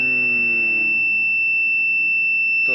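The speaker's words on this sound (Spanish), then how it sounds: "todavía está aquí la alarma activa a pesar que hemos puesto en 0" A MAM-860 controller alarm gives a steady, loud electronic tone held without a break for the whole span, with a faint buzz underneath.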